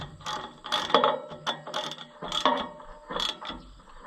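Wrench ratcheting in repeated bursts while tightening a part on a tractor, a close metallic clicking that comes and goes in short runs.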